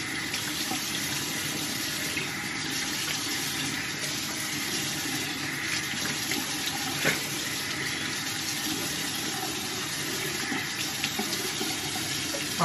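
A bathroom tap runs steadily into a sink during face washing, a constant close rushing splash of water that lasts the whole stretch without any speech.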